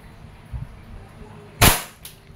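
A KJWorks KP-06 Hi-Capa airsoft pistol fires one sharp, loud crack with a quick decay, after a softer thump and faint background noise.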